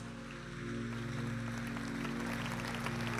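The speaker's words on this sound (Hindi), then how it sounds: "धन्यवाद करें परमेश्वर का तालियों के साथ" Congregation at a Hindi Christian prayer meeting clapping in thanks to God: a short burst of crowd applause over a steady low hum, swelling slightly after the first half-second.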